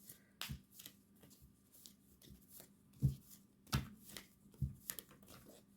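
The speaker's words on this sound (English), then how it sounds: "These cards are a little flimsy, so I'm afraid to shuffle them too hard." Thin, flimsy tarot cards are shuffled close up in soft, irregular bursts of riffling and tapping, with quiet pauses between bursts and no talking.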